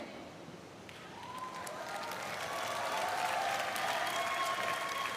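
Audience applause welcoming the first speaker at a session in Korea, a steady wash of many hands clapping that swells gradually and holds, with faint crowd murmur underneath.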